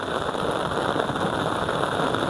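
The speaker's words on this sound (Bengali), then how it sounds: "হালকা বৃষ্টি হচ্ছে।" Light rain falls steadily on a rooftop garden, a soft even patter and hiss with no gaps, moderately close and undisturbed by voices.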